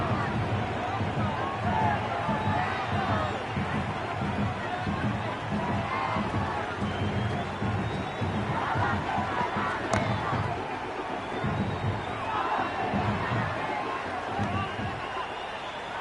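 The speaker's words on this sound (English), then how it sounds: "There's an almost tangible fervour throughout the crowd at the moment." Stadium crowd in a Cricket 26 T20 match between India and Pakistan, a steady roaring din of spectators cheering and murmuring throughout, broad and continuous with slight swells.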